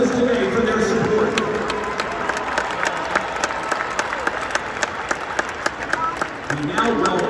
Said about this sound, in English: Let's give a great round of applause to all the Million Dollar Band alumni and friends with us today for their support